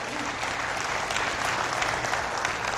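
An audience bursts into applause, a dense, even clatter of many hands clapping at once that stays steady throughout.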